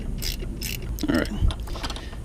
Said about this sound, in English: go ahead and torque it a bit, because we're going to have to put this one at 45 foot-pounds